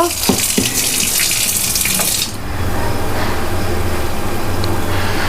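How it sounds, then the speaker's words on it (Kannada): Water running steadily from a tap for washing butter before making ghee, a loud close continuous gush that shifts in tone midway as the flow lands differently, with no talk. "ತುಪ್ಪ ಬೆಣ್ಣೆನ ಸರಿ ತೊಳೆಯೋದಕ್ಕೆ ಸರಿ ಮುಳುಗುವಷ್ಟು ನೀರು ತಗೊಳ್ಬೇಕು"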